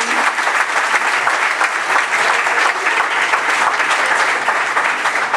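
A loud, close, sustained burst of audience applause, made of dense, even clapping from many hands, runs for over five seconds without easing. There is no talk over it.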